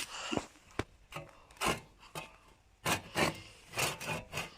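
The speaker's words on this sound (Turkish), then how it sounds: "Şu şekilde şimdi yine el testeresiyle" A hand saw rasps through wood in uneven strokes, each pass a scratchy burst with short pauses between, fairly close.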